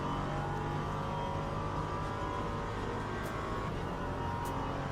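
An LMP3 prototype race car at Sebring in a racing video game, its engine a steady, dense roar held at high revs throughout, with no speech.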